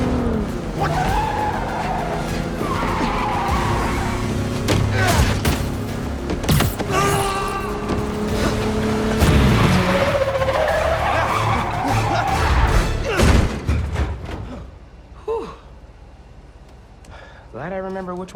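A car braking hard and skidding in Marvel's Spider-Man 2, with tires squealing and engine noise over an action score, ending in a sharp stop and a short silence before a voice speaks.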